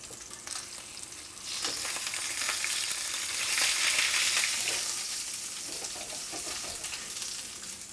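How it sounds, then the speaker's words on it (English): Steak searing in a hot pan, a loud close sizzle that swells in the middle and then eases, with scraping as the meat is shifted around; no voices. "You can move the steak around a little bit to make sure that it's cooking evenly on that first side."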